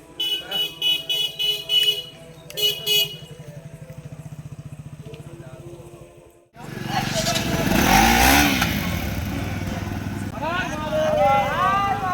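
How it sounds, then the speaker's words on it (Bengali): Several motorbikes on a group trip set off and ride away, a pulsing idle and rising engine noise giving way to a loud, steady rush of riding with people talking over it. "এবার আমরা বাইক বার করে আবারও সবাই চলে যাচ্ছি"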